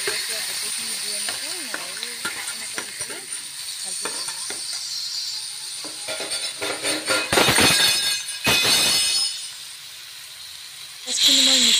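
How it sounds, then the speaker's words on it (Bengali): Spice paste with salt and turmeric fries in a pan while potato curry is made, a steady sizzle and hiss with stirring, swelling to louder bursts of frying toward the end; a voice talks over the first half. "দি পেলাই এই পেষ্টটো একেলগে ভাজি ললো"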